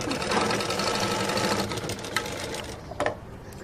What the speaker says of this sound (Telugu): ఇక్కడ మధ్య నుంచి స్టిచ్చింగ్ చేసేసుకుందాము